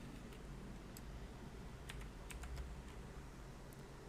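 A computer keyboard is typed on in faint, quick, irregular clicks under a low background hiss.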